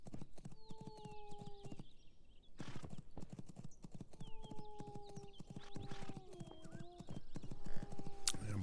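Horses gallop in the Legends of Aria video game, with a steady clip-clop of hooves running throughout, a whinny cutting in now and then, and a layer of game music over it all.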